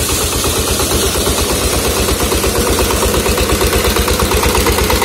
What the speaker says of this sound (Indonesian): Sedangkan untuk mesinnya sendiri ini menggunakan merek Anil. Ini 20 PK ini.